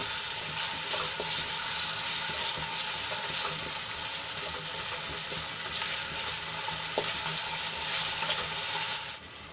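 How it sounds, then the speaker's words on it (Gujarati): Potatoes sauté in hot oil for a fasting-style sweet and sour moraiya khichdi, giving a steady, dense sizzle with occasional stirring clicks that runs throughout and drops slightly at the very end. "અહીંયા બટેટા આપણા પચાસ ટકા ચડી જાય ત્યાં સુધી આપણે એને તેલમાં સાંતળી લઈશું"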